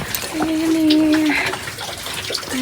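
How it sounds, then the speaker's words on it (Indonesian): Running water flows steadily near the toilets at a camp post on Mount Cikuray via the Tapak Gerot route in Garut, a continuous wash of splashing heard close by, with voices and a brief tonal sound over it. "ada toiletnya, air mengalir"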